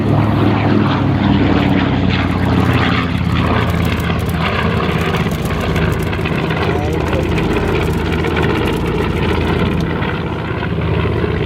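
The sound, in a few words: B-25 bomber aircraft on final approach at an airshow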